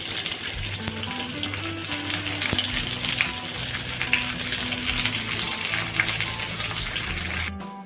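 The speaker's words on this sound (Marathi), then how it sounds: "इथे भेंडी मी सर्व ठेवलेली आहे फ्राय करण्यासाठी।" Stuffed okra fries in a pan for a Maharashtrian bharli bhendi, giving a loud, steady, continuous sizzle that runs close and unbroken throughout.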